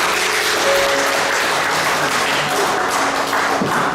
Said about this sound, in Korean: 힘찬 박수로